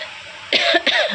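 Two short, harsh coughs close to the microphone, one right after the other, over faint background hiss.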